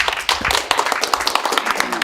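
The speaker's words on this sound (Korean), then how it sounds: "다시 한번 토론을 멋지게 해주신 6분께 뜨거운 박수 부탁드리겠습니다" Applause from a seminar audience: many hands clapping together in a dense, steady patter, fairly loud and close, with a voice speaking over it.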